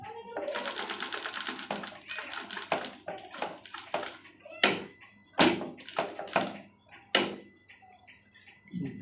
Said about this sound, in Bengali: খুব ভালো করে ধরে চাপ সেলাই দিয়ে নিতে হবে।